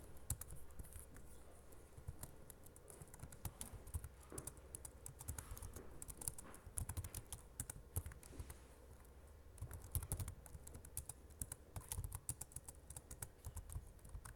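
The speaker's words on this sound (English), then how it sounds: "a bit more typing and then I'll explain a little bit more" Fingers type rapidly on a computer keyboard, a continuous patter of quiet key clicks with irregular bursts and brief pauses, close and alone.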